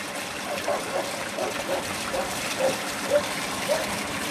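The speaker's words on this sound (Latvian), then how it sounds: "Un šeit mēs redzam, kā tiek pumpēts ūdens iekšā jaunajā pilsētā" Water pumped into a new city area, a steady rushing trickle and flow with a low machine hum beneath it and small bubbling pops, continuous and moderately close.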